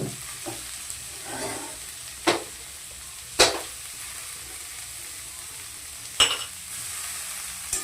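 Carrots stir-fried in a pan for chow mein make a soft, low sizzle broken by a few sharp, close scrapes and clanks of the spatula at irregular intervals.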